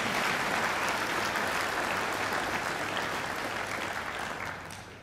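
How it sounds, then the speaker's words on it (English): A large graduation ceremony audience gives a speaker a sustained round of applause, dense steady clapping that fills the hall and tapers off slightly toward the end. "I think Gavin deserves another great round of applause."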